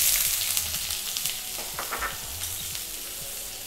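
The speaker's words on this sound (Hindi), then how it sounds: "ऑयल में सबसे पहले मैं डाल रही हूँ अनियंस।" Onions sizzle loudly and close in hot olive oil, a continuous hiss with faint stirring scrapes, no voices.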